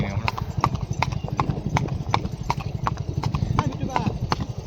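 Mare on a farm, hooves clip-clopping in a quick steady rhythm on the ground, close by, with people talking over it throughout.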